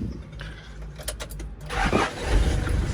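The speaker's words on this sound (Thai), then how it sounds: "เดี๋ยวฟังเสียงจักรบึง" A 1998 vehicle engine cranks with a few brief clicks, catches and fires up, then settles into a close, rumbling idle.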